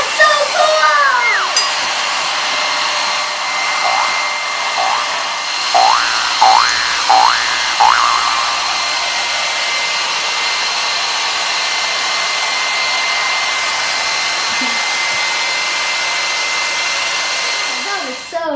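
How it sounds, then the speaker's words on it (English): A hair dryer runs on its highest setting, a steady loud broadband whoosh of blowing air that holds from start to finish, with a few brief rising tonal chirps early on over the constant roar. "Then, put it on the highest setting."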